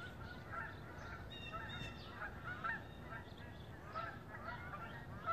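Several geese honk repeatedly at a distance, their calls overlapping above a low, steady outdoor rumble.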